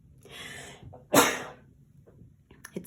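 One close, loud human sneeze bursts out after a short stretch of quiet breathing, followed by a soft sniff.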